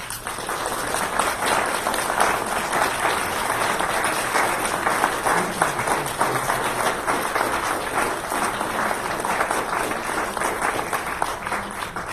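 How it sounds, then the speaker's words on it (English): A standing round of applause from committee chairs at a church annual meeting, sustained even clapping that holds steady for the full stretch, moderately loud and without a break. "We would like all the chairs to now stand and give them a round of applause"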